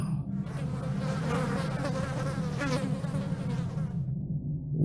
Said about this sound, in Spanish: todas aquellas moscas que escuchamos antes estaban alrededor de él